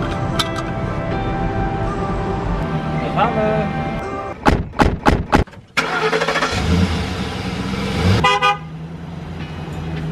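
A camper bus with a refrigerator and a rooftop solar panel starts up and pulls away: engine noise, a burst of several sharp horn toots, then the engine revving loudly as it drives off, with voices nearby.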